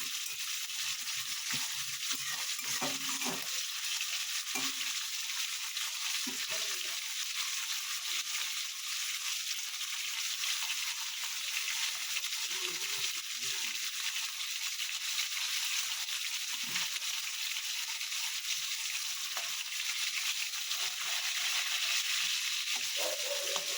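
Katla fish frying in a pan gives a steady, close hiss of oil under soft, occasional clinks and scrapes, continuing evenly throughout with no talk.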